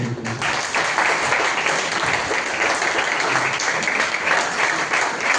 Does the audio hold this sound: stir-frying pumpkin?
no